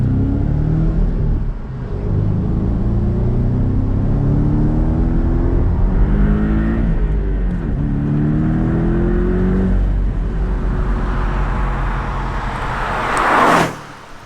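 A Porsche Boxster T engine pulls hard through the gears from inside the car, a steady droning growl rising in pitch in repeated sweeps with brief dips at each shift, ending in a louder whoosh.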